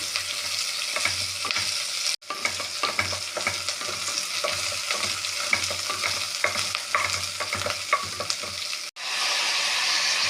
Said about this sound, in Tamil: 7-8 சிறிய வெங்காயத்தை நறுக்கி 2 பச்சை மிளகாயும் சேர்த்து வதக்கவும்